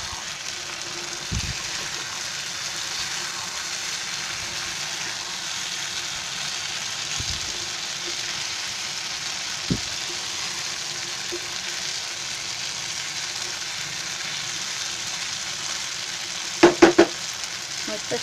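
Paneer tikka masala frying in a pan over raised heat, a continuous close sizzle with occasional stirring knocks and a cluster of sharp clacks near the end, no talk.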